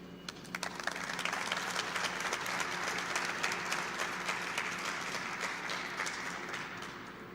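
Steady audience applause at a ceremony marking delivery of Bombardier CRJ900 aircraft to Uganda, a dense sustained clapping from a crowd that holds for several seconds before easing slightly.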